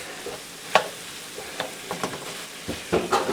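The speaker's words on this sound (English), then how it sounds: "we're going to cook that flour a little bit so that it gets the rawness off" Flour cooks in a pan for a shepherd's pie base, with a soft low sizzle under repeated scraping stirs of the spoon, about eight distinct strokes, close and without talk.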